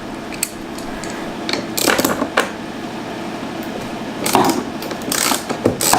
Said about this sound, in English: Alright, so it's a 10 mil socket.